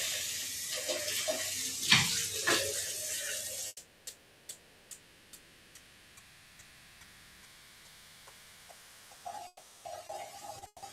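Water running from a sink tap in an art studio, a continuous hissing splash for a few seconds, then stopping, followed by quiet regular ticking and small handling sounds.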